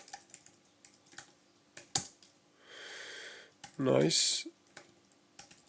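Computer keyboard keys click in scattered taps, then a brief burst of rapid typing, with a short spoken word and a few louder, closer noises.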